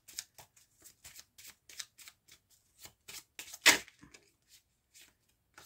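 Tarot cards being shuffled by hand up close, a series of quick crisp riffles and slides in an uneven rhythm, with one louder snap partway through and no talking.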